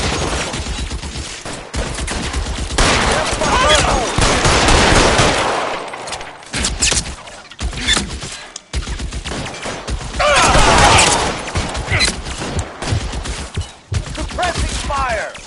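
Sustained suppressing gunfire in the crime game L.A. Noire: rapid bursts of shots rattle on for about fifteen seconds, loud and close, breaking off briefly at a few points before starting again.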